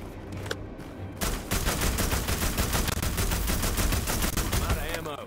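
Rapid gunfire from a first-person shooter in The Walking Dead: Destinies, a dense run of repeated shots that begins after a brief quiet start and keeps going steadily, loud and close, for several seconds.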